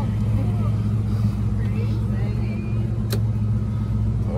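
A 1991 Ford Mustang GT 5.0 convertible fox body fires up for the first time, its V8 settling into a steady low idle rumble close by, with a brief sharp click partway through.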